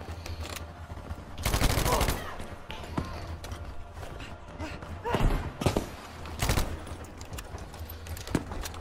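Bursts of SMG fire in Battlefield 5, a few short volleys scattered over several seconds with thuds between, set against steady battlefield noise and voices talking.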